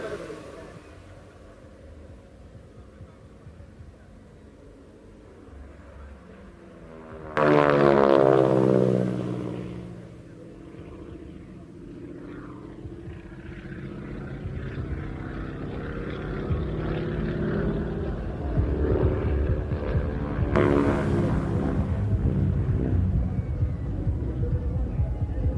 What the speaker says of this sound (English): you'll hear this very distinctive rasp. It is not coming from the Pratt & Whitney engine, it is coming from the tips of the propellers as they go supersonic